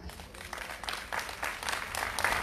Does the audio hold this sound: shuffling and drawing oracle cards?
no